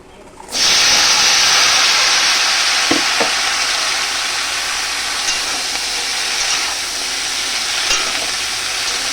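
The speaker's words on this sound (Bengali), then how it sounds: "এই পুঁটি মাছ ভাজা তেল আছে কড়াইতে ওটার মধ্যেই এবার এই শাপলাগুলো দিয়ে দেব" Water lilies drop into leftover fish-frying oil in a wok and set off a sudden loud sizzle that holds as a steady hiss. A few brief clinks sound under it.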